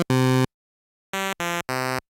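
Akai AX60 synthesizer playing a narrow pulse-width square wave, bright buzzy tones: one longer held note, a pause, then three short notes in quick succession, loud and alone.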